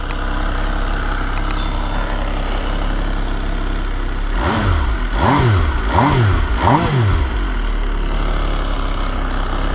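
An MV Agusta Brutale 800 motorcycle idles nearby with a steady low engine note, then blips its throttle four times in quick rhythmic revs before settling back to idle.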